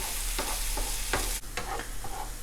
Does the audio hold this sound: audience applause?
no